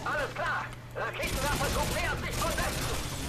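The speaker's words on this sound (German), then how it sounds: "Ich habe gar keinen Peil, wo die Schüsse herkamen" Rapid gunfire in the video game Call of Duty Modern Warfare 2: bursts of shots rattle out in quick succession while voices talk over the fighting.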